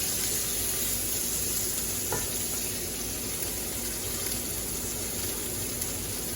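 Thick Berkshire pork chops sizzle steadily in a hot pan, a dense, continuous crackle and hiss that stays even and close throughout, with no talking.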